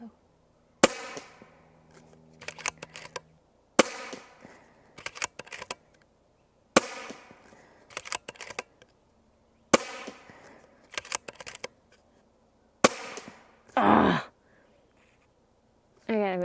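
Five sharp, loud cracks from a Stoeger XM1 Ranger .25 PCP air rifle ring out about three seconds apart. Each is followed by a brief clattering tail, and a short burst of other noise comes near the end.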